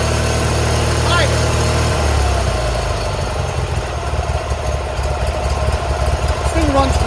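A Toro 616Z zero-turn lawnmower engine idles steadily and close by, a low continuous rumble with a slight unevenness in its note, while a voice talks over it.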